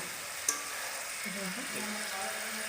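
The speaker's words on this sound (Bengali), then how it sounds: "একটু ভালো করে নেড়ে দিতে হবে" Boiled bitter gourd stirred in a pan, a soft continuous sizzle with one sharp utensil tap early on and faint scraping afterward.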